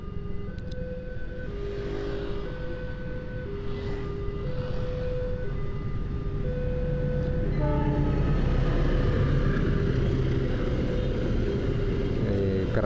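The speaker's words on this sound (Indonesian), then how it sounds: "Ini ada kereta api ini." A railway train rolls past a road junction near Bojonegoro, a long steady rumble of wagons with repeated horn blasts sounding throughout, heard from nearby over traffic.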